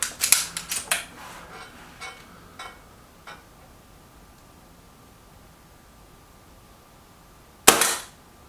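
A Stoeger XM1 air rifle fires a single sharp, loud crack during a target-shooting contest. It comes well after a scattering of faint clicks and handling noises, with quiet in between.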